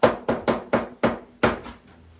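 An acrylic paint tube is rapped on a table six times in quick, slightly uneven succession, each a sharp, close knock that fades quickly.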